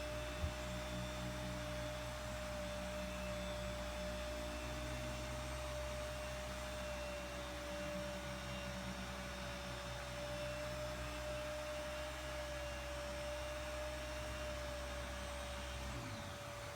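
A car polisher runs continuously while working Jescar Correcting Compound into paint, giving a steady, even motor whine and hum that holds for the whole stretch and stops right at the end.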